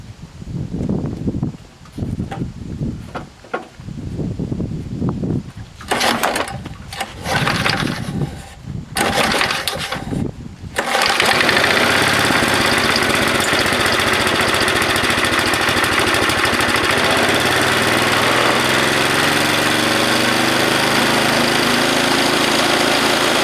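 An old Tecumseh HSSK50 small engine, its carburetor left unadjusted, fires up after a few rough, sputtering bursts and settles into a loud, steady running drone close by.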